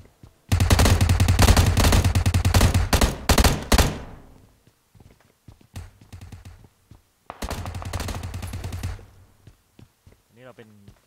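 Rapid bursts of automatic gunfire in the battle royale game PUBG Lite, a long loud volley followed by scattered shots and a second burst, with a voice talking in between.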